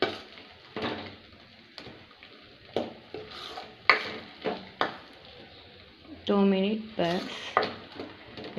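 Paneer curry masala frying in a pan while being stirred, soft sizzle under repeated scraping strokes of a spoon against metal, close by, with a voice speaking briefly.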